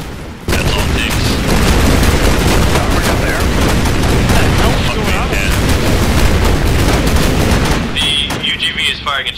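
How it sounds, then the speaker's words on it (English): An unmanned ground vehicle opens fire in a military combat video game: dense, close bursts of automatic gunfire mixed with heavy booms roll on almost without pause for about seven seconds, then thin out and fade. "UGV is firing at GMG. It's firing it at me."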